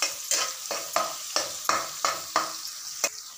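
Green chili, garlic, onion and curry leaves sautéing in oil for cabbage rava kichadi: a soft sizzle with a regular series of about eight spatula scrapes across the pan, close up and with no talking.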